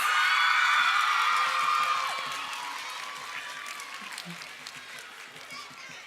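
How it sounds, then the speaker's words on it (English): Loud applause from a lecture audience with scattered whoops and cheers, swelling at first and then fading to lighter clapping as a voice speaks over it. "Let us give Natalia another round of applause"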